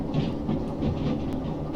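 Train cars rolling past a switch in the Derail Valley train simulator game, a steady rumbling clatter with rhythmic wheel clicks and a faint hiss, continuous and close.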